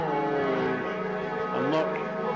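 Church bells peal steadily in a European town, a dense continuous ringing that fills the short stretch at moderate volume. Faint voices sit underneath.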